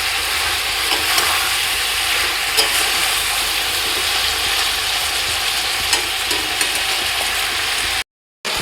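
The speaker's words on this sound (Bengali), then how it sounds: "খুব অল্প সময় তেলের মধ্যে আমি মাংসটাকে একটু নাড়াচাড়া করে নেবো।" Continuous loud sizzling of chicken frying in oil, with regular scraping clicks of a spatula stirring in the pan, close up.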